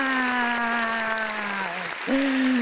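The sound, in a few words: audience applause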